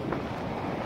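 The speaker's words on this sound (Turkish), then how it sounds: "Bakın o kadar güzel bir rüzgar esiyor ki." Outdoor wind buffets a microphone, making a brief, low, muffled rumble that stays steady throughout.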